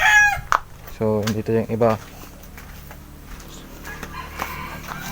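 Fowl being handled give a few loud, harmonic crowing calls and clucks close by, clustered in the opening two seconds, while someone talks over them and over the quieter handling noise that follows.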